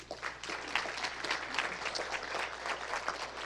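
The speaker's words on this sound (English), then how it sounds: "Let's give them a round of applause." Applause from an audience at a live medical grand rounds presentation, steady broadband clapping lasting the whole stretch at moderate level with no voices over it.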